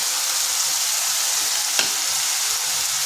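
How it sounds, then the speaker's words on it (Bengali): Ground cumin, coriander, chilli and turmeric fry in a pan for an egg and potato curry, giving a steady, close sizzle with one brief scrape of stirring midway. "মশলাটা বেশ একটু কিছুক্ষণ কষে নিতে হবে।"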